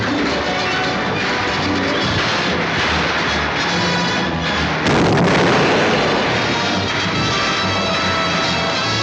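Loud, continuous battle-scene barrage of gunfire and artillery from a 1940 film, with dense overlapping blasts and a sharp surge of intensity midway, no pause throughout.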